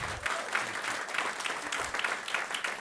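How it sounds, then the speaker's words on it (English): Audience applause at a welcome session for a partnership event, a short burst of clapping from a modest crowd, moderately loud and rising and falling over a few seconds. "Give them a round of applause."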